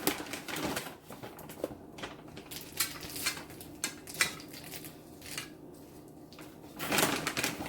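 Chocolate chips scattered by hand over brownie batter in a baking pan, landing as light, uneven clicks and patters in scattered bursts, close and fairly quiet, with no talking.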